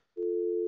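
Steady telephone dial tone on a call placed through an Avaya SIP trunk behind an enterprise session border controller, a single unbroken hum starting after a short click and holding to the end.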